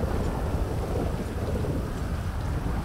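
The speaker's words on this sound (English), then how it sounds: "I love the thunderstorms and I hate the thunderstorms." A thunderstorm in the game GTA 5 in Los Santos, a steady heavy rain hiss over a deep, rolling thunder rumble, loud and continuous with no voices.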